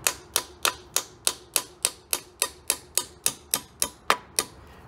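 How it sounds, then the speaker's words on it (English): About fifteen sharp metallic knocks from a hammer driving bolts out of a Bafang Ultra e-bike motor land one after another at a steady, quick pace, each ringing briefly before the next strike. "just get them started with the hammer"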